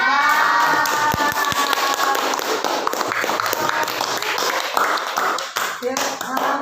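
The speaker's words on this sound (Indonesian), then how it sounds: "Tepuk tangan untuk kelompok" Students in a classroom clap for a presenting group, a brief uneven round of hand claps with a few distinct sharp claps near the start, mixed with voices and classroom chatter.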